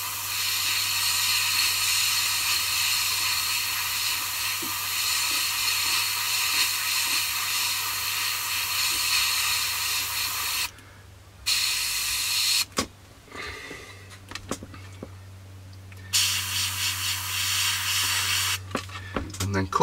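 An airbrush sprays paint onto a 1/48 scale Hobby 2000 P-40N Warhawk model, a steady, close, airy hiss that later breaks into short on-off bursts.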